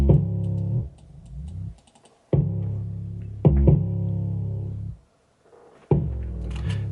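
Distorted 808 bass in a hip-hop instrumental: heavy, booming low notes in short repeated hits with gaps of near-silence between them, sounding loud and up front on their own.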